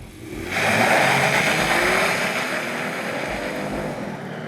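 A 2020 Honda Odyssey minivan engine roars up close as it accelerates hard off the line, a steady loud rush that rises quickly and then holds.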